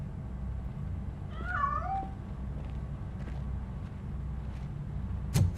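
A cat meows a few times in the video game Robocop: Rogue City, the drawn-out cries standing out over a low ambient hum, with a sharp thump near the end.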